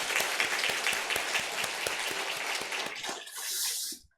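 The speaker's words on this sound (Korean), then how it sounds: "우리 한번 격려의 박수 한번 하겠습니다" A congregation at a women's mission devotional service in a Korean church applauds steadily, a dense patter of clapping that fades out after a few seconds.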